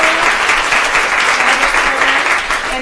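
A live event audience gives a big round of applause, loud, dense and steady clapping filling the room from start to finish, with no talk over it.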